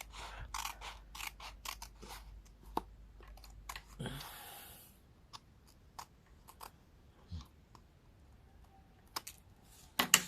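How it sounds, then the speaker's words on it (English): Scissors trim paper around the outside of an envelope in a card-making craft setting, giving a close series of crisp, irregular snips and clicks with a brief rustling burst midway, no talk. "And then trim it off by going around the outside of the envelope."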